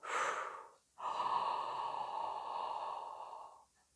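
A singer takes a long, deep, airy inhale during a breath-support exercise, after a short breath that stops near the one-second mark. The inhale is close and steady, with no talking over it.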